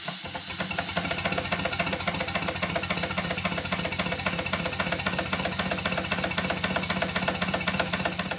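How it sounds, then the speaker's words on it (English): A small twin-cylinder Stuart 5A steam engine runs with a rapid, steady, worsening knocking beat under a continuous hiss of steam, close and fairly loud. "The more I run this engine, the worse the knocking's getting."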